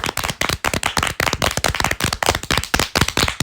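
Lively applause for Neelu and Neelima, a rapid run of sharp, close hand claps in an uneven rhythm lasting a few seconds before stopping abruptly.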